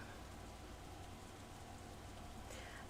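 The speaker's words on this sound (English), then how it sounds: "I feel the first drop of rain land on the back of my hand" Light rain begins to fall outdoors, a soft, even patter with a faint hiss that stays quiet and steady throughout.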